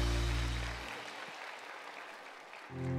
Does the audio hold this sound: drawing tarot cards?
no